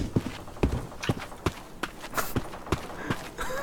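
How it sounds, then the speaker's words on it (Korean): Footsteps in the online shooter Black Squad, a string of quick, sharp steps, about a dozen irregular thuds over a few seconds, fairly close and alone. "발소리 들었어."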